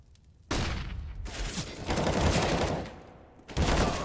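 Counter-Strike gunfire during a professional ESL Pro League match: sharp, loud volleys of rapid shots break out and run in sustained bursts, fading briefly before another close burst near the end.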